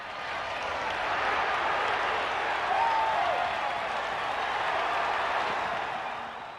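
A big Welsh crowd of about 20,000 applauds at Cardiff Arms Park during a 1970s schoolboy rugby match against an Australian side, a dense, sustained roar of clapping that swells and then eases slightly.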